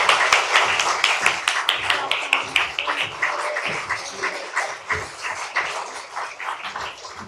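Audience applause welcoming two authors onto a stage at a book event, a dense spread of claps sustained throughout with rippling peaks, moderately close and loud, no speech over it.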